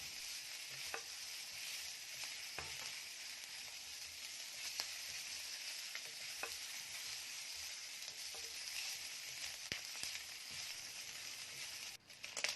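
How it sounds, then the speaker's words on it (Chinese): Pork belly stir-fried in a wok over low heat, rendering its fat: a steady, even sizzle throughout, with occasional sharp spatula scrapes and clicks close by and no talk. "我们继续用小火将它煸炒"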